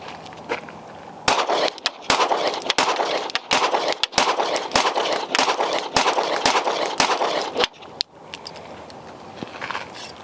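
A Glock pistol build with a Monsoon Lucky 7 setup and a Holosun SCRS micro optic fired at a range, a rapid string of sharp, loud shots in quick succession, briefly pausing before a few final rounds.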